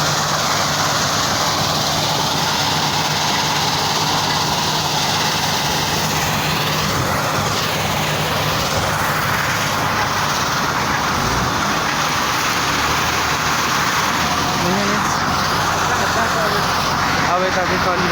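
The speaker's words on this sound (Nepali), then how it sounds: "अब यता चाहिँ चलिरहेको छ टिप्पा भेनाको" A tipper truck runs while gravel is loaded into it, a loud steady engine drone with rumbling and clattering throughout, and voices talking over it.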